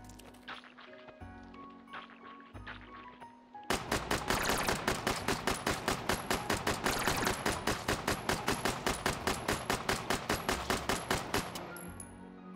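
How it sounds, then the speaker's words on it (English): Semi-automatic gunfire in the VR shooter Hot Dogs, Horseshoes & Hand Grenades: a quiet opening, then a long, loud, rapid string of evenly spaced sharp shots lasting about eight seconds before it stops. "Time for some semi-auto action here."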